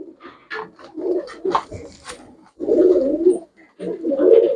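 Pigeons for sale coo close by in low, rolling phrases, several overlapping bursts separated by short gaps, with faint scuffling in between.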